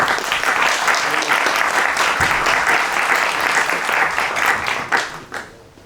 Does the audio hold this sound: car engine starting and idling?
no